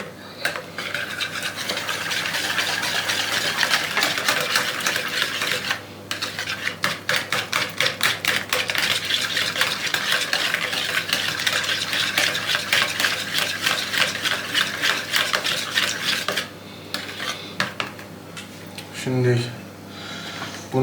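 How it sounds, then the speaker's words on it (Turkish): A spoon stirs a börek mixture in a bowl with rapid, rhythmic clinking and scraping that runs nearly continuously, pausing briefly twice, while voices talk over it. "Şimdi karıştır."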